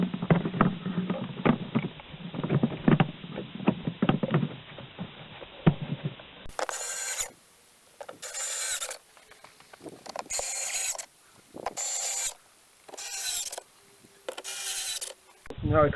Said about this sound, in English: Now we can put the pollen filter housing back on.